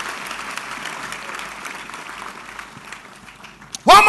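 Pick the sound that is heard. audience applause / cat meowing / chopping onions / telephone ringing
audience applause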